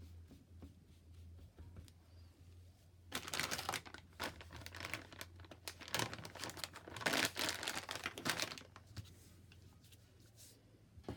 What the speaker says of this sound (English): So I'm just wetting a little bit so I can tear it off.